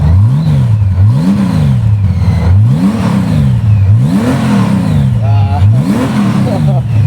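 Honda Valkyrie 1,863 cc motorcycle engine revving up and down repeatedly in a steady rising-and-falling pattern, loud and close, with its exhaust pipe prominent throughout.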